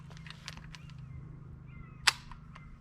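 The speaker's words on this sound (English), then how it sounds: "Click, no bang." A PSA AK-74 rifle misfires with a single sharp metallic click and no shot, preceded by faint handling clicks against a quiet low hum.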